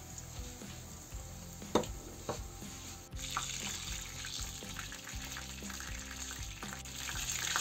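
Chicken breast coated in cornflakes fries in hot oil in a pan, giving a steady, close crackling sizzle with a few sharper pops and spatters, louder after about three seconds and continuing without speech.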